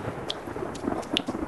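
Rain falling in the DayZ video game, a soft steady patter with a few sharper drops and a faint low rumble, no voices.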